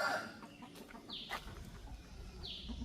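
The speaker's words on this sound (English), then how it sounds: "Look at all those cocks." Roosters in a shaded yard cluck softly at a distance, with a couple of short rising squawks and scattered calls over faint outdoor background noise.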